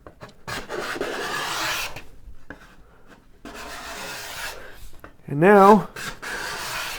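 A sharpened card scraper rasps across a wooden tool tote, throwing fine wisps as it cleans off marks; steady close scraping strokes run between pauses, with someone talking briefly over it.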